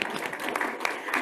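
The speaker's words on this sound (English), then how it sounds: "So big applause for your new job." A short burst of audience applause at a women's sport leadership summit, steady clapping from a room full of people with no voices over it.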